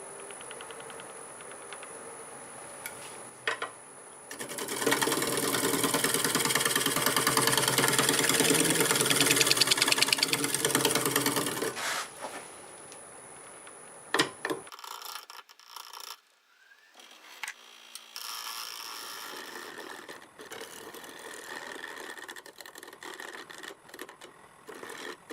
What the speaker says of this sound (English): I'll go over all of it with the negative rake scraper